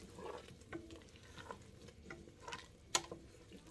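Grands biscuit dumplings frying in a pan give a soft, steady sizzle with scattered pops and crackles, faint and close, one sharper snap standing out near the end.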